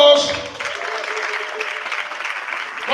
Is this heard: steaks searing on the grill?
no